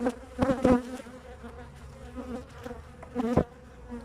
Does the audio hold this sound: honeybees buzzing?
yes